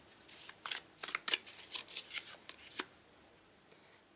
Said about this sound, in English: So a little bit more of shuffling